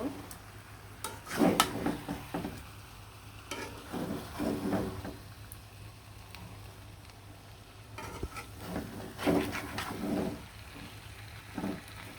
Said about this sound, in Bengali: ভেজে রাখা মাংসগুলো দিয়ে খুব সুন্দরভাবে কিন্তু লাড়াচাড়া দিয়ে দিব